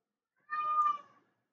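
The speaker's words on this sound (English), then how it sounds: "Kitty!" A house cat lets out one clear, drawn-out meow, close by and alone against near silence.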